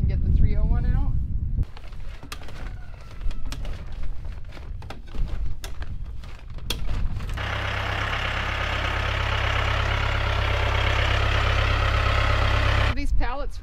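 A tractor engine idles and runs at a greenhouse, a steady low drone that gets louder and rougher in the second half. Earlier, people talk near the microphone while wind buffets it.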